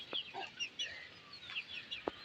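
Chickens cluck and chirp in a farmyard, with high chick peeps and a rooster among them; short calls come in scattered bursts at moderate distance over a quiet background.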